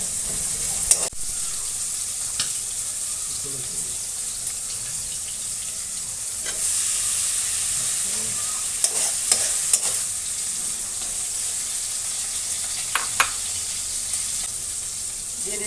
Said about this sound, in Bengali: পেঁয়াজটা হালকা লালচে করে ভেজে নেব।